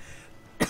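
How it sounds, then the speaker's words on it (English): A single short, sharp cough near the end, close and loud after a quiet stretch of room noise. "Sorry, I'm still coughing"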